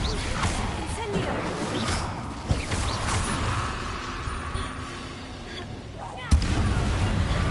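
In the Hogwarts Legacy video game on PS4 Pro, the Incendio fire spell is cast amid continuous dense combat noise, with roaring, whooshing bursts and a couple of sharper impacts standing out over the steady game soundscape.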